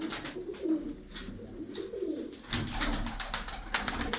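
Soft, repeated cooing from pigeons, with low rolling calls close by and a busy flutter of bird sounds throughout.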